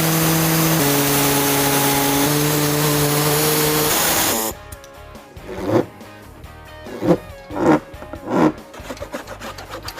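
A power tool buzzes steadily while cutting the plastic bumper fascia of a 2019-2023 Audi E-Tron SUV, then stops, followed by several short rasping, scraping strokes on the plastic.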